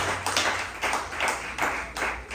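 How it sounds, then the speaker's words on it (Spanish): Church congregation applauding, a steady wash of clapping hands that swells in repeated rhythmic bursts, close and fairly loud, without talk over it. "Denle fuerte palmas a nuestro Señor Jesucristo en esta tarde."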